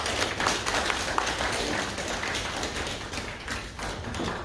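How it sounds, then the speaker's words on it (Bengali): Audience applause at an award ceremony, dense continuous clapping from a crowd lasting throughout, steady and fairly loud. "একটু জোরে করতালি হয়ে যাক।"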